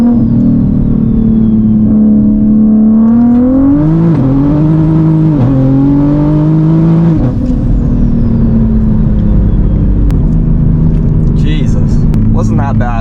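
A Toyota MK5 Supra making over 800 wheel horsepower accelerates hard, a loud close engine note climbing and dipping through gear changes under continuous strain, with people talking briefly near the end.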